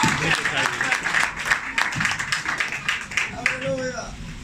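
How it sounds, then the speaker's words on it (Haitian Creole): A church congregation claps together in a dense, steady stretch of applause, with voices and calls rising over it; a singing or speaking voice emerges near the end. "Applaudis plus fort."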